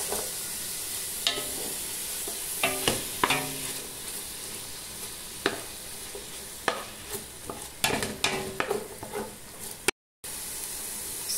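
Onion sizzles in a pot with chopped meat and garlic for a beef soup, a steady fry with repeated scraping and clattering stirs close up and one brief dropout near the end.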